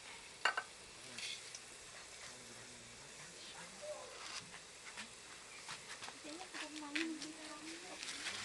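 Food frying in hot oil gives a steady soft sizzle and crackle throughout, fairly quiet, with a voice and other speech over it.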